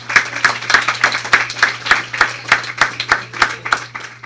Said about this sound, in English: please give yourselves a round of applause because you're great